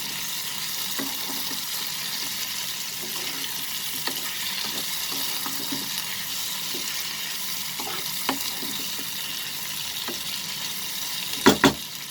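Fried prawns being stirred into masala for a prawn and potato curry give a steady, continuous sizzle with scattered soft scraping stirs and a couple of louder clinks near the end.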